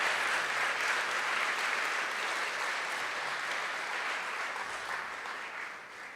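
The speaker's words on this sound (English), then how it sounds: "Should we give these guys a round of applause?" Audience applause at a Sunday evening talk: a dense, steady roar of many hands clapping together for about six seconds, loud and even before thinning slightly at the end, with no speech over it.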